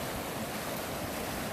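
Fast, deep creek water rushing steadily past large rocks on a Colorado hiking trail, a dense, close, continuous roar with no voices.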